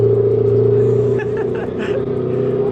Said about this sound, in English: Yo, my boy got a Tomei on the Tesla.